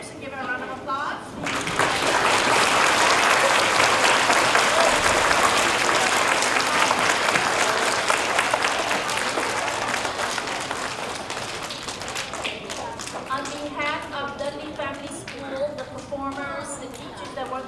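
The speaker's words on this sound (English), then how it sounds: "give her a round of applause" An audience at a school Hispanic Heritage celebration applauds the lead educator in a full, sustained burst that slowly tapers off, with children's voices and chatter rising as the clapping dies down.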